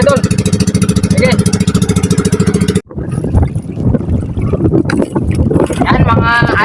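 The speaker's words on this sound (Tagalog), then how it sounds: "Yung malakas-lakas mga idol yung hangin dito sa labas mga idol. At medyo malalaki yung alon." Strong wind buffets the microphone and waves slap against a small fishing boat out at sea, a loud, continuous rush after a steady engine-like drone cuts off; someone talks over it.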